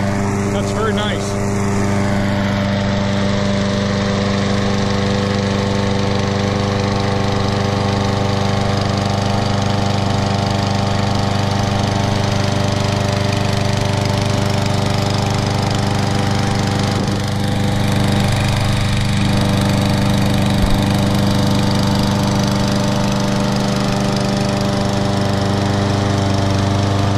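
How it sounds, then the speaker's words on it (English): A Poulan 21-inch walk-behind lawn mower with a Kohler XT series engine idles close by, a loud, steady single-cylinder drone with strong low harmonics and a slight pitch dip midway, running continuously with no talking. "Nice lawnmower. Really like this Kohler powered engines."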